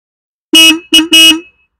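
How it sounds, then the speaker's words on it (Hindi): A 2022 Royal Enfield 350 J-series motorcycle horn honks three times in quick succession, loud and close, then starts a fourth honk, with brief gaps between the bursts. "इसका हॉर्न एक बार सुनाता हूँ"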